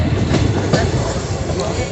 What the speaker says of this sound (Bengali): দেখতে থাকুন কীভাবে ট্রেনটা ঘুরছে